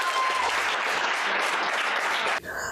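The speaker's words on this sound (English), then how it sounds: "Please give them one more round of applause" A hall audience at a poetry recitation championship gives sustained applause, a dense, even roar of clapping that stops abruptly near the end, where a brief, faint voice follows.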